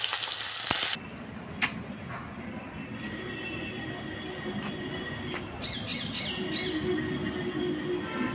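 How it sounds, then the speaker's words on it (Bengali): Vegetable stems fry in the oil left from frying rohu fish, a sharp clatter opening into a steady close sizzle with occasional clicks and light stirring. "মাছ ভাজার ওই তেলের মধ্যে ডাঁটাগুলো ভেজে নেব"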